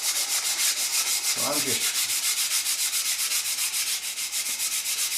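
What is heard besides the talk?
sanding and tidying up a wooden raised panel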